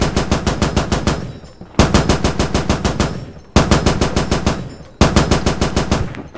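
Machine gun fire in the military shooter game Squad during vehicle combat: four loud, close sustained bursts of rapid automatic shots, each lasting roughly one to two seconds with short gaps between, no talk.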